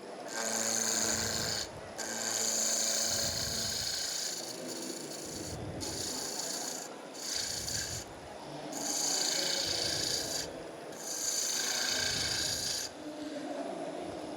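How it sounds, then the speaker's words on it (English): A ball gouge cuts timber on a spinning wood lathe, giving repeated rasping passes in bursts with short pauses between, close and fairly loud, no talk. "back to the ball gouge, and we'll clean that up and get a bit more timber exposed"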